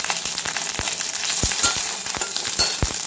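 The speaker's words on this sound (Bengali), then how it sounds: "কারি পাতাটা একটু ফ্রাই হয়ে গেলেই এর মধ্যে আমি কাঁচা লঙ্কাটা দিয়ে দেব এরকম করে" Curry leaves and green chili frying in hot oil in a pan, a steady crackling sizzle with sharp pops and spatters scattered throughout, close and moderately loud, no voices.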